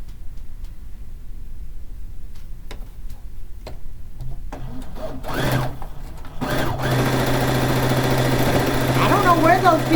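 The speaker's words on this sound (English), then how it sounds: "Let's start by sewing this piece right here." A sewing machine stitches fish quilt pieces, starting with scattered ticks and clicks, then running in a steady whirring hum, with a person talking over it.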